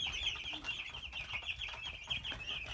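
Young chicks in an indoor brooder give a steady, continuous high peeping chorus that runs close and fairly loud, without pause, over a low background rumble.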